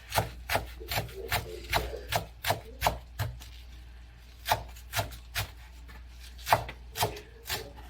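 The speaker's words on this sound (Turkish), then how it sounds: "taze sarımsak ve taze soğan doğruyoruz şimdi de" A knife chops fresh garlic and green onions on a wooden board in steady, evenly spaced strikes, about a dozen close, crisp hits with a short pause midway and no talking.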